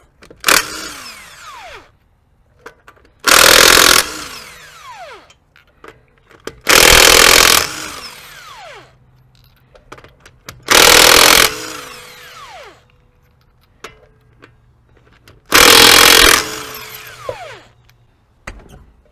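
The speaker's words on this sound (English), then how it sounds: "Using a 7/8 inch socket, I'm going to remove all 5 lug nuts to get the wheel off." Five lug nuts removed from the front wheel of a Chevy Equinox with a 7/8 inch socket on a power tool: loud close bursts of whirring and rattling, each a second or two long, separated by quieter gaps of handling noise.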